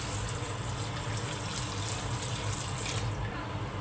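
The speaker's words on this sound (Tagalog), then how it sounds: "Tubig." Water pours into a cooking pot holding native chicken and lemongrass for adobo, a steady splashing, hissing stream lasting a few seconds at moderate loudness with no speech over it.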